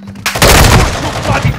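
Loud, close burst of rapid automatic gunfire from a spraying weapon in the Call of Duty: Modern Warfare II video game, a dense sustained volley following a brief quiet lead-in.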